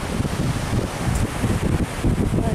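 Wind blowing on a beach at Yurkino on the Azov coast in Crimea, loud buffeting rumble on the microphone with gusty fluctuations and rustling, no talk.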